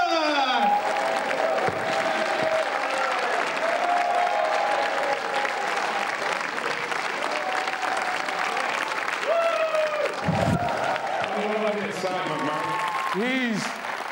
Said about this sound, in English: Really clap and cheer and go well for the brilliant Mr. Rudy Liquid!